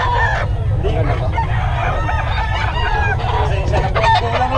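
Roosters at a chicken market in Bocaue crow repeatedly amid clucking fowl, several birds calling near and far over a low steady rumble of background noise.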